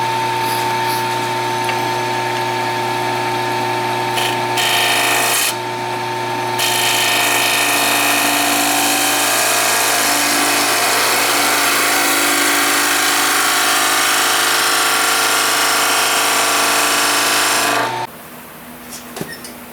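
Wood lathe turning the middle part of an open segmented wooden lamp, a loud continuous close whine with a steady hum that runs without a break for most of the time, then cuts out near the end.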